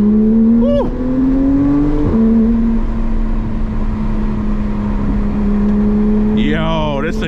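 Porsche 911 GT3 heard from inside the cabin while driving, a loud steady engine drone that shifts pitch as it accelerates, with a brief rise early on and a sharp rev climb near the end.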